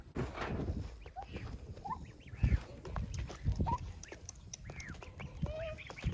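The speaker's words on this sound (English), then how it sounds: "Those so-called baby geese are not so much babies anymore." Young geese, no longer quite babies, honk and squawk in a scattered series of short calls around a farmyard at a morning drink, fairly close and irregular, with some muffled thumps among them.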